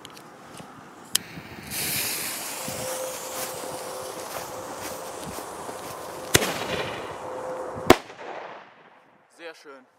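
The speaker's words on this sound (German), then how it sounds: "Sehr schön, echt laut, schöner Blitzknall." Firework flash banger set off outdoors: a long fizzing hiss of the burning fuse and jet, then two sharp loud bangs about one and a half seconds apart, followed by fading quiet and a brief voice.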